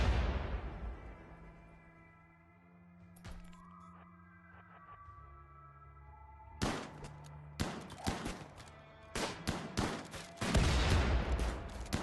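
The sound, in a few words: enemy grenade and gunfire attack in RimWorld video game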